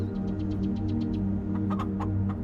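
Chickens cluck in a field in the video game Farming Simulator 22, a series of soft rapid clucks and a few sharper calls over a steady low engine-like drone, with no voices.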